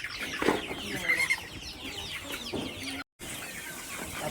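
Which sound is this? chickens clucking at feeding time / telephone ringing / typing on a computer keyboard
chickens clucking at feeding time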